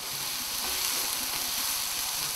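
Onions with a pinch of salt frying in a pan, a steady close sizzle with faint bubbling and no talking.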